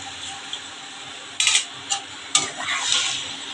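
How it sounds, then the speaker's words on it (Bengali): Hot water goes into a pan of frying papaya and prawn ghonto, a thick Bengali curry, with sharp sizzling bursts and scraping stirs that rise and then settle into a steady hiss. "এবার আমি গরম জল দেবো এখানে"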